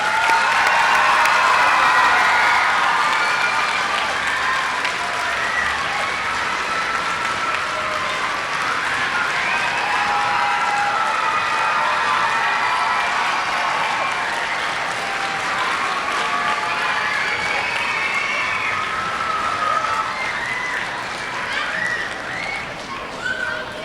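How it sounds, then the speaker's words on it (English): A school assembly hall fills with a long, sustained round of applause from many hands, loud and even throughout with faint cheers mixed in, tapering slightly near the end. "Could we give her a round of applause?"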